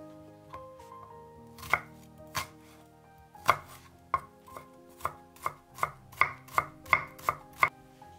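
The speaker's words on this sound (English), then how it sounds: "Mince half a shallot." A knife mincing half a shallot on a cutting board, starting with a few scattered cuts and building into a steady, quickening run of crisp close chops, with no talking.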